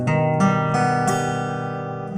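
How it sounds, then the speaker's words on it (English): A guitar strums an augmented chord with all strings ringing, several clear strums in quick succession with bright sustained tone, close and alone. "And that is an augmented chord."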